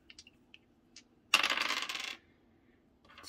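Dice tossed for a dice challenge during cash envelope budgeting clatter in one short rattling burst of about a second, close and clear, after a few soft taps, with no talk.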